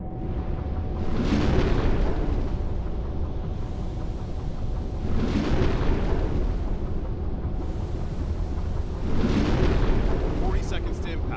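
Torpedo launches from a submarine in the UBOAT video game, three heavy whooshing bursts spaced evenly a few seconds apart over a constant low rumble, with voices talking underneath.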